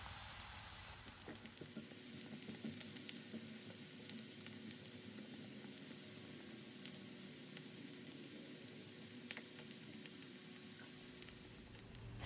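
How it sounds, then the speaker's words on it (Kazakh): Onion and garlic fry in a hot pan for lasagna with béchamel sauce, giving a steady, quiet sizzle that crackles on without pause and with no voices. "Пияз бен сарымсақты қуырып аламыз."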